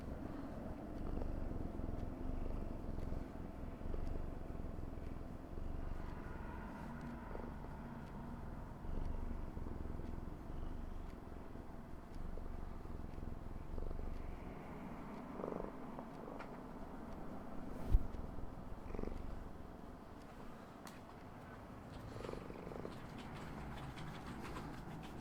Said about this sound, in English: they've heard you purring.